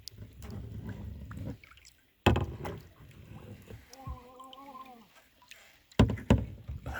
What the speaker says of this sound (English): I'm going to try to paddle with one hand.